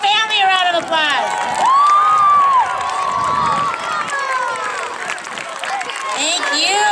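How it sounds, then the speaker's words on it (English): A school crowd of parents, families and children cheers, shouts and claps together at a pumpkin drop event, with loud, steady noise throughout and voices calling out over the applause. "let's give your parents and family a round of applause"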